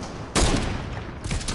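Gunfire in the Fortnite video game: a dense burst of rapid shots starts abruptly and keeps going, loud and close, with a second cluster of shots near the end.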